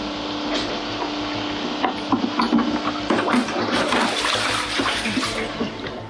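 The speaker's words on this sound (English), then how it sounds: "so I'm just bailing out the water" Water sloshing and splashing as a leaking, damaged boat hull is bailed out by hand, loud and close, with repeated scooping splashes and knocks against the hull.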